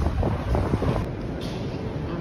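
Strong wind buffeting a microphone on a Moscow street, a steady broadband roar with low rumble and gusty texture throughout, with some faint voice or street sound underneath.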